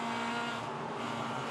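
Toyota 86 race cars race around Sydney Motorsport Park with a faint, steady engine whine and occasional tire squeal, heard from a distance as one continuous wash.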